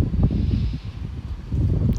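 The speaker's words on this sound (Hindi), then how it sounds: "बहुत तेज़ हवा और" Strong wind gusting outside during a rainstorm, low buffeting rumbles that swell and ease, with rustling and microphone wind noise, surging again toward the end.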